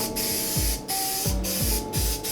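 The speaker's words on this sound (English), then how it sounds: "spray paint." A can of spray paint sprays in several loud, close hissing bursts separated by brief pauses, with a rattling, uneven texture during a subwoofer box build.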